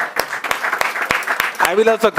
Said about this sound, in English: Everyone should clap for this 9 student. I will also clap.